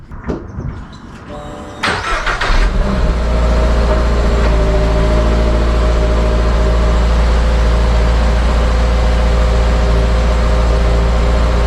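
A 2022 Subaru BRZ fitted with an HKS Spec-L exhaust cold starts: a short stretch of cranking, then the engine catches with a loud burst and settles into a steady, droning idle close by, with no one talking.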